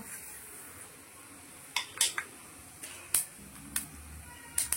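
Mustard seeds spluttering in hot oil in a kadai while tempering a Mangalorean ladies finger sambar: a faint steady sizzle broken by scattered sharp pops, some single and some in quick pairs.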